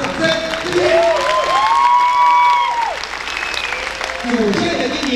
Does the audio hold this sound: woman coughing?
no